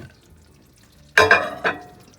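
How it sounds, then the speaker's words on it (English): A spoon stirs butter into a hot microwaved peanut brittle mixture in a cup, two brief close scraping clinks after a quiet pause. "we add 1 teaspoon of butter to the cup and give it a stir"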